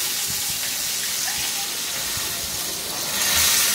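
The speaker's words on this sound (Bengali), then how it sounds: "এক পিঠে পোড়া পোড়া দাগ লাগলে এই যেরকম আমি উল্টায় এগুলোকে ওই পিঠটা ভেজে নিব" Eggplant slices frying in oil in a pan, a loud continuous hissing sizzle with small crackles, close and unbroken, swelling slightly near the end.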